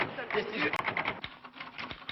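A typewriter clacks in a quick irregular run of keystrokes in an office setting, with speech overlapping the typing.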